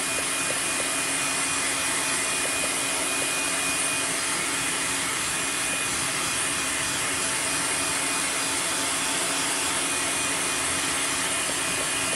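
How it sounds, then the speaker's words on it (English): A hair dryer blows at a freshly painted fishing lure, giving a loud, steady whooshing drone with a faint whine that runs unbroken from start to finish, close to the microphone and with no talk. "I'm going to grab this hair dryer and see if I can manage to get this dry"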